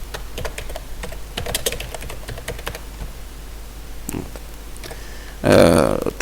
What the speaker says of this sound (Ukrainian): можна натискати на Enter, а одразу набирати текст тут